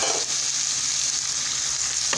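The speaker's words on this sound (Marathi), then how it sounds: "आपल्या बरेचपैकी भाज्या परतत आलेल्या आहेत" Chopped vegetables sautéing in a pan for whole-wheat-flour veg momo filling, giving a steady, close, continuous sizzle with no pauses.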